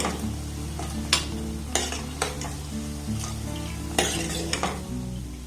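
Milk powder and flour sweets deep-frying in hot oil give a steady close sizzle, broken by sharp clinks and scrapes of a metal spoon against the pan at irregular intervals, with no talking.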